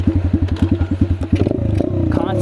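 A Chinese dirt bike engine held in a wheelie, giving rapid rhythmic pulsing bursts of throttle close up before rising into a steadier, higher rev.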